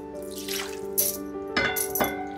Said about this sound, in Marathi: हे बघा ग्रेव्ही झाली तयार कालवणाची. या पाणी टाकते त्याच्यात.